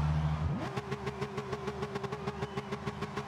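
A Porsche engine in the racing game Gran Turismo Sport starts and settles into a rhythmic, pulsing idle with regular throbs, heard close but fairly quiet with no voices.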